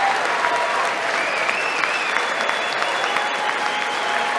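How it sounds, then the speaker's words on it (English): Steady, dense clapping from a crowd carries on evenly without pause, with faint tonal sounds and background voices threaded underneath. "Clapping"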